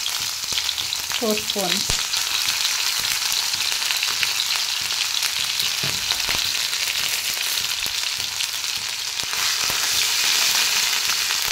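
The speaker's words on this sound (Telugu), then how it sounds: "ఆయిల్ హీట్ ఎక్కాక దాంట్లో అల్లం వెల్లుల్లి పేస్ట్" Ginger garlic paste frying in hot oil for chicken fry, a loud continuous close sizzle with occasional stirring clatter, joined by a brief voice early on.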